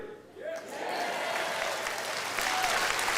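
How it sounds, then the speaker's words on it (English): A rally crowd at a Reform UK event in Wiltshire gives a fairly quiet round of applause and cheering that swells after a brief lull and holds steady at a moderate level throughout, with a few whoops mixed in. "Now, that was a quieter cheer."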